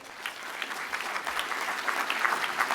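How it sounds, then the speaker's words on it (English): An audience at the 21st Annual Fraser Valley Cultural Diversity Awards claps warmly in a hall, a dense, steady wash of applause that keeps building slightly, with no clear speech over it. "Everyone, a warm round of applause to Kelly Kak."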